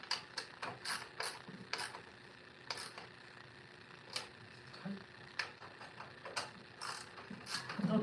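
Bolts are tightened by hand with a ratchet wrench during a repair job before snow arrives, quiet repeated mechanical clicks and ticks in short uneven bursts with faint background hum.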